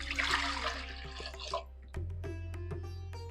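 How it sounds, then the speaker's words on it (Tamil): Water pours and splashes into a metal pressure cooker for about two seconds while making mango rasam, followed by a few light clinks and taps over a low steady hum. "இதை தண்ணி விட்டுறேன்"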